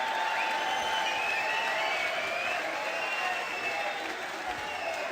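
A darts crowd at the PDC Masters applauds runner-up Dave Chisnall after the final, a continuous roar of clapping and cheering that fills the arena evenly throughout.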